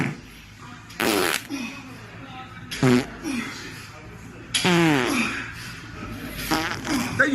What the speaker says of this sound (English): OE Fitness adding fart sound effects